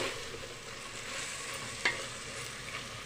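Chicken biryani masala is stirred with coriander powder in a pan, giving a steady soft sizzle with a faint scraping stir and one brief clink of the spoon against the pan, with no talk.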